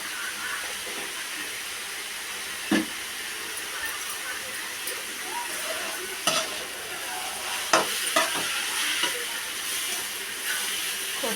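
Tempering spices sizzling in hot oil in a pan for vaayinta, a steady close frying hiss broken by occasional sharp pops and stirring clatter.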